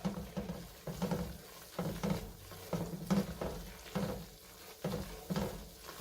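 Spices being stirred together for a red chili chicken enchilada casserole, with repeated rhythmic scraping and mixing strokes close by, a soft sizzle underneath and no talking.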